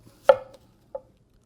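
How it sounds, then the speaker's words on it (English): A knife slices an onion into rings on a cutting board, two short sharp chops close up, the first louder, with no talking. "You're not going to cry cutting this onion up."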